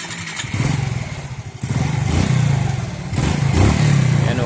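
A Suzuki Smash 110 motorcycle, its carburetor piston sticking, revs hard in repeated full-throttle bursts close by, the engine climbing and surging loudly with a rough, clattering edge.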